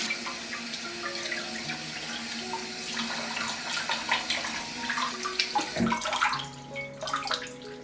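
Running tap water pours steadily over thick pieces of beef brisket being washed in a kitchen sink, a continuous splashing rush with small clatters, no talking.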